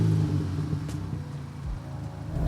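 A Volkswagen Golf R engine hums low and steady while driving, a moderate rumble from inside the car with no talk.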